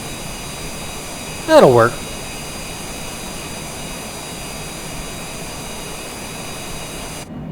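Citation Longitude jet engines in a flight simulator during a dawn takeoff from Haneda, a steady, even drone with a faint high whine that runs through the whole stretch, with someone speaking briefly near the start.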